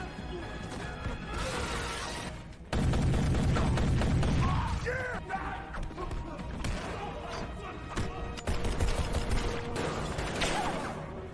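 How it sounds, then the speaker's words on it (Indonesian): Rapid gunfire and crashing impacts in an action-movie fight at a guarded compound, dense bursts of shots and heavy thuds with booming low blasts, a voice talking over parts of it. "mereka semua menembaki semua penjaga di sana"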